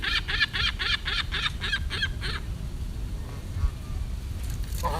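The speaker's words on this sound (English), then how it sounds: "I threw lettuce at the goose." A goose honks in a quick run of about nine loud, close calls, then falls quiet while background noise and a faint voice continue.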